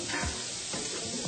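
Scallops searing in foaming browned butter in a hot pan, a steady close sizzle with crackling spits throughout.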